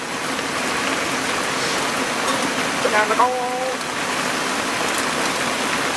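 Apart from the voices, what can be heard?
heavy rain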